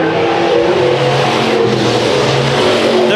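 Race cars roar around the track in a heat race at Chowchilla Raceway, a continuous, loud blend of engines revving and droning as the pack runs close together.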